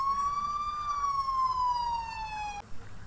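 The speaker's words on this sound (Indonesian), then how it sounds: "Wah, ada bunyi sirine lagi nih." A single steady news-alert siren tone sounds faintly, slowly drifting lower in pitch over a few seconds before cutting off, with no talk.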